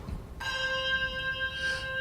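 A handbell is struck once and rung with a tower swing, ringing out with a clear, sustained tone that wavers slightly as it swings, close and fairly loud.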